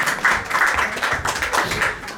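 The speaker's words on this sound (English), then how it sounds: "So big round of applause for the." Small audience at an evening home lecture program clapping for a visiting speaker, a short burst of moderately loud, uneven hand claps with some murmur underneath.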